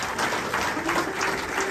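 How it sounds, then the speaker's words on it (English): Audience applause at a jazz festival tribute concert, steady dense clapping from a sizable crowd filling the hall, continuous and moderately loud with no voices over it. "Please clap longer, I need to recover from the previous number."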